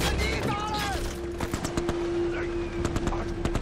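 Rapid bursts of gunfire and explosive shots in a war film battle scene, sharp cracks repeating irregularly over a sustained tone and background clamor.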